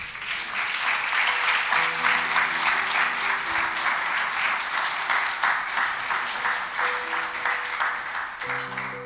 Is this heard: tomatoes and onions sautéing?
no